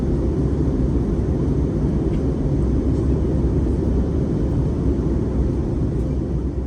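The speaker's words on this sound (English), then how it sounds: "I'll leave you to enjoy all the sights and sounds of an arrival into Ponta Delgada on the Azores island of São Miguel" Heard from inside the cabin, an airliner on final approach to Ponta Delgada on São Miguel in the Azores gives off a loud, steady roar of engine and airflow. The broad rumble stays constant throughout, with no speech.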